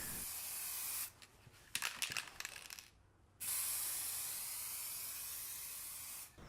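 Gloss lacquer sprayed onto a teal-painted mid-century coffee table: two long, steady hissing spray passes separated by a short pause of clattery handling noise, close and fairly loud.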